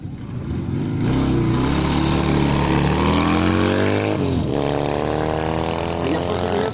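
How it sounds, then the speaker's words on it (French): A Kawasaki 1000J motorcycle, rebuilt from a wreck for historic hill climbs and demonstrations, runs loud and close with a steady, throbbing engine note that rises and then drops sharply with a rev change midway. "C'est une Kawasaki 1000J."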